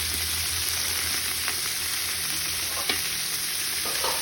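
Two kilos of chicken feet sizzle and fry in a pan, a steady close crackle with occasional faint stirring scrapes, no voices.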